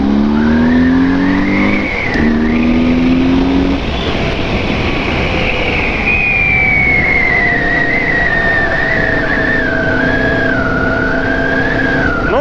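A BMW R1100R motorcycle engine revs up through a couple of gear changes, then holds a steady, rising whine under loud wind rush, close and continuous.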